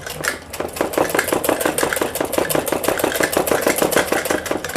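A sewing machine stitches along a plain suit's fitting line in a fast, even run of rapid mechanical clicks and whirring, close and continuous.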